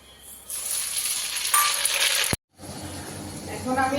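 Nigella seeds hit hot oil with bay leaf and dried chili already in the pan, bursting into a loud, steady sizzle that cuts out briefly, then resumes as a softer frying hiss.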